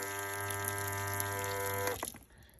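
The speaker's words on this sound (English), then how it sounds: "So this is the tap." Water running from a tap into a sink built inside an SUV, a steady close stream with a pump-like hum underneath, stopping abruptly near the end.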